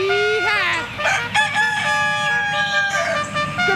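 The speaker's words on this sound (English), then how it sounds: "Good morning, Rooster." A rooster crows loudly and close by in a long, wavering cock-a-doodle-doo, with a few shorter squawks mixed in.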